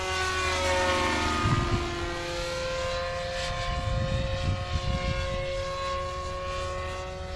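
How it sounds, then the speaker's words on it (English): A Goblin 500 RC helicopter flies steadily, its high rotor and motor whine holding constant tones with a loud, continuous drone and some low buffeting throughout. "I can stop the heli very well there"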